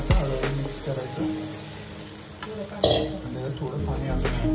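Gram flour (besan) batter is stirred into browned onions in a hot pan for pithla. There is a steady scraping and stirring with a soft sizzle underneath and one louder knock partway through.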